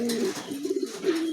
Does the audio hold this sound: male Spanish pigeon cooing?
yes